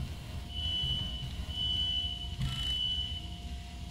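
A thin high electronic fire alarm tone in the video game INFRA beeps in long repeated pulses over a low water-plant machine hum, steady and moderately loud.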